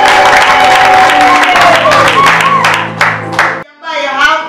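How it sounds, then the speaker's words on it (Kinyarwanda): A church audience at a choir's debut album launch breaks into loud, sustained applause with cheering, the clapping dense and close before dropping briefly and surging again as voices call out. "bakomeye Yesu amashyi."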